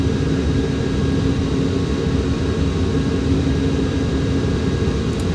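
Four Rolls-Royce Avon Mark 524 jet engines of a de Havilland Comet in Flight Simulator X hold a loud, steady low roar with a faint high whine, constant throughout.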